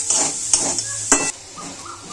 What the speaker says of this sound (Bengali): এবার নাড়াচাড়া দিয়ে ফের ভাজতে থাকবো বেশ কিছুক্ষণ।